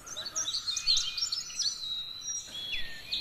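High, thin calls of a pied fantail chirp repeatedly in quick bursts, fairly close and clear, with a faint steady tone running underneath.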